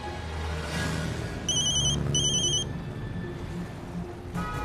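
A phone rings in a Hindi TV drama scene, two short bursts of a bright electronic ringtone standing out over a steady musical background, with no talk alongside.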